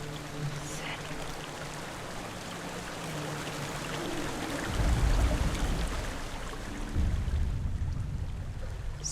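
Waterfall in the video game Hellblade: Senua's Sacrifice, a steady broadband rush of falling water that runs throughout and swells a little louder in the second half.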